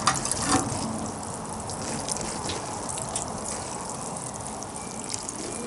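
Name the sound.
watering freshly planted anemone corms in soil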